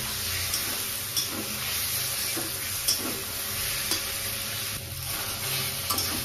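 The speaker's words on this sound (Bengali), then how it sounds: "মশলাটা দিয়ে আমি আরেকটু কষবো" Spices with ginger and dried red chili fry in a pan, making a steady soft sizzle broken by a few light stirring scrapes.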